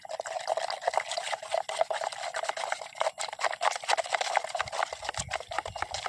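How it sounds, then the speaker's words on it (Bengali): A stick stirs freshly poured liquid in a container, making continuous close sloshing and splashing with quick uneven clicks and swirls. "এখন আমরা এটাকে একটা যে কোনো কাঠি দিয়ে এটাকে নাড়িয়ে নেব।"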